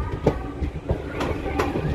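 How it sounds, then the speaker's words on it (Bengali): The 18048 Vasco-da-Gama–Shalimar Amaravati Express pulls into Brahmapur station, its wheels giving a loud, rhythmic clatter of clicks and thumps over a steady rolling rumble. "ব্রহ্মপুর স্টেশনে ঢুকছে।"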